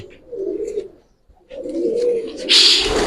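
Giribaz pigeons in a loft give low, throaty coos up close, two bursts separated by a short pause, with a faint rustle at the end.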